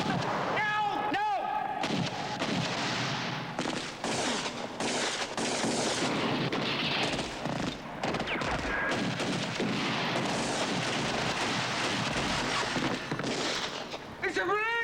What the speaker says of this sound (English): It's a grenade! It's a bomb!